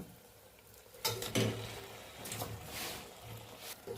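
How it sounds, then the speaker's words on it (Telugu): Mutton tipped into chili and spices frying in oil, with a few soft thumps and clatters as the meat lands, then a quiet low sizzle and faint stirring scrapes in the pan. "ఇప్పుడు మనం ఇందులో మటన్ వేసుకుందాం"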